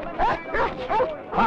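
A dog gives a quick run of four sharp, yelping barks close by, each short and high-pitched, with brief gaps between them and no talk over them.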